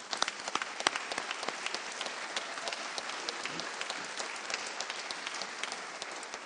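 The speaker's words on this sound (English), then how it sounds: "it's okay to clap" An audience applauds at a Veterans Day ceremony honoring the Phoenix Veterans Day Parade in Arizona, a dense, even wash of many hands clapping that holds steady throughout, fairly distant and without speech.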